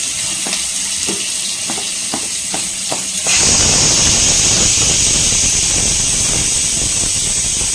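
Chopped onion drops into hot oil in a frying pan for a beetroot and carrot stir-fry, setting off a sudden loud, steady sizzle after a few light taps and clinks, with no one talking.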